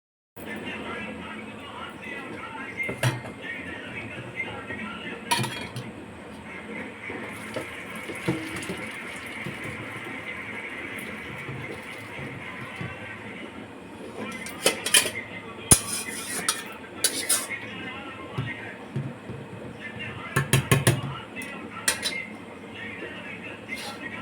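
Pots clink and clatter in a home kitchen as a pot of curry comes off the stove and rice is set on to cook, with metal knocks and scrapes scattered through and people talking throughout.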